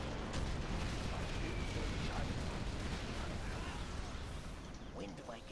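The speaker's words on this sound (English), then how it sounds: "We're gonna have the artillery take that out." Steady, dense rumble of artillery fire and explosions in the strategy game Command & Conquer: Generals Zero Hour, loud and unbroken, with a voice talking over the barrage.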